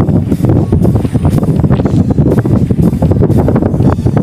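Strong wind at sea roars steadily into the microphone on a fishing boat, a loud continuous buffeting rumble with gusty fluctuations and no talk.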